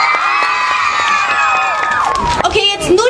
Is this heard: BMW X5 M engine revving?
no